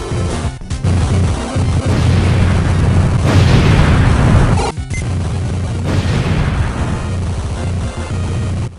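Loud booming explosions from the NES game Zombie Nation, heavy bursts that roll on in a dense continuous roar, broken by brief cuts near the one- and five-second marks.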